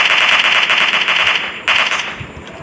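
A Scar-L assault rifle fires in PUBG Mobile Lite, a loud rapid-fire burst of game gunfire, then a short pause and a second, briefer burst.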